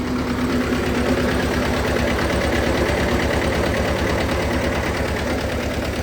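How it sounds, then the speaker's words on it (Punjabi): A Zetor 1811 tractor engine idles steadily with a rhythmic diesel knock, constant and fairly close, with no voices. "ਟਰੈਕਟਰ ਦੇਖੋ ਕਿੰਨਾ ਵਧੀਆ ਚੱਲ ਰਿਹਾ"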